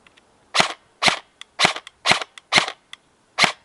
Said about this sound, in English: that noise again is only coming from the gearbox itself